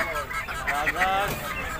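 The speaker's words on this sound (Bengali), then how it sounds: "কাকা এই রাজহাঁস দেখতে পাচ্ছি" A domestic goose at a busy bird market honks several times in quick, nasal, wavering calls, fairly close, over a low murmur of market background noise.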